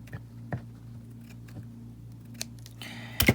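Scissors snip through African print fabric layered with fusible web for tassel earrings, giving a few sharp, close cuts spaced over a low steady hum, with a louder crunch at the end.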